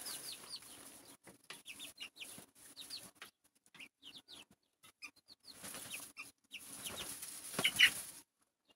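Chickens and young roosters clucking in a backyard, a string of short calls scattered across the whole stretch, with a few wing flaps and a louder burst near the end. They sound fairly close, and no one speaks.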